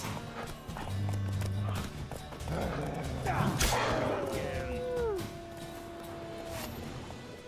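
Horse hooves clip-clop along in the video game The Witcher 3: Wild Hunt, steady footfalls under game ambience and a drawn-out whinny, with faint voices in the background.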